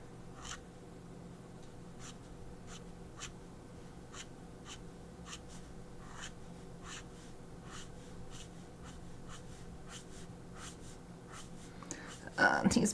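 A dry ink pen scratches across paper, left-handed drawing work, giving a series of short, regular, faint strokes over quiet room hiss, ending with a louder rustle.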